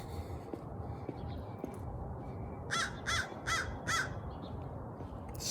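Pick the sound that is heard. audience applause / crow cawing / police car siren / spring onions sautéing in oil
crow cawing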